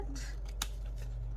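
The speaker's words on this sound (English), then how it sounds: "Let us cut this down now." Scissors cut paper for autumn tags, a single crisp snip close by over a low steady hum, brief and on its own.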